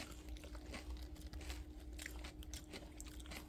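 A dog eats food it is guarding during a campervan camping trip, with steady close crunching and biting bites over a low constant hum, no talking.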